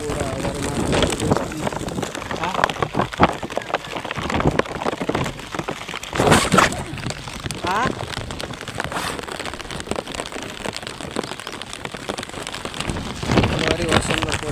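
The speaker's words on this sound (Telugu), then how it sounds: "భారీ వర్షం కురుస్తుంది." Heavy monsoon rain pours over flood-filled paddy fields where rice seedlings are being transplanted, a dense steady hiss with scattered gusts, while people talk over it throughout.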